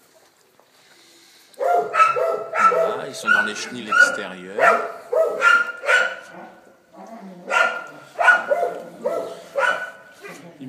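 One-month-old Malinois puppies barking in a rapid series of high, yappy barks with some whimpering, close by, while a person speaks over them.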